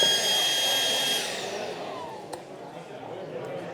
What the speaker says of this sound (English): it's a high flow battery powered vacuum that can do porous and non-porous materials.